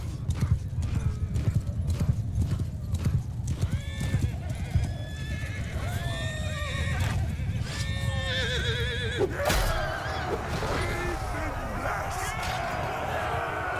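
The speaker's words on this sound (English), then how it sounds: "Get out of the way, horse." Horse hooves clatter steadily amid a battle in Mount & Blade II Bannerlord, with several whinnies and neighs rising above the din and a sharp crash near the end, under someone talking.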